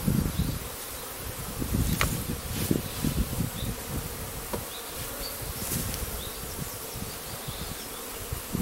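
Bees buzz densely around an open hive while frames are handled, a steady close hum with individual insects droning past the microphone.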